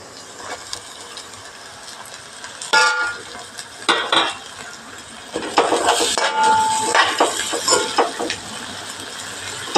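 Garlic, ginger, green chilli and curry leaves tipped into a pan and stirred for a backwater fish curry with mango and coconut milk, loud metallic scraping and clattering strokes under a constant low sizzle.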